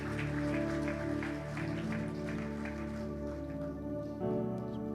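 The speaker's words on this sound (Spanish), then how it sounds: "Dele una ofrenda de palmas al Señor." A church congregation at a conference in Milan, Italy applauds together, a dense, steady patter of many hands clapping at moderate distance, blended with sustained music tones underneath.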